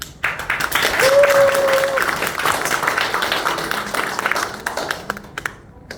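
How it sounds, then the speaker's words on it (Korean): Seniors' audience at a magic show clapping together, a loud burst of many hands that swells quickly, holds, then loosens into scattered claps and tails off, with a short tonal ping near the start. "여러분들이 박수를 한번 치면"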